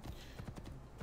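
Horse hooves clip-clop steadily in Assassin's Creed II, a quick faint rhythm of game hoofbeats over a soft background.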